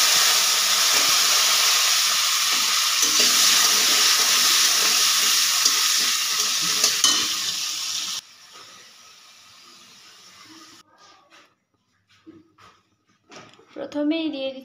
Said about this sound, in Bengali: একই তেলে আলুগুলো ভেজে নিব।